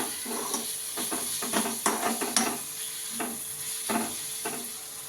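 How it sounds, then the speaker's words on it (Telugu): Egg roll filling with a little garam masala frying lightly in a pan, a soft steady sizzle broken by several short scraping stirs of a spatula, close and moderately quiet with no talking. "లైట్గా ఫ్రై అయితే సరిపోతుంది"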